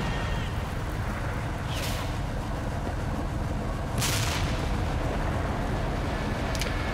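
Pre-planned artillery barrage in CMSF 2, a military combat game: a steady low rumble of distant shelling with a few sharp, brief impact cracks spaced several seconds apart.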